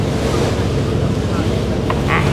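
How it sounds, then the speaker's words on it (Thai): Strong sea waves and heavy wind roar continuously around a boat crossing to Koh Larn near Pattaya, a loud, close rushing wash with wind buffeting the microphone. "ทุกคนคลื่นแรงมากนะคะ"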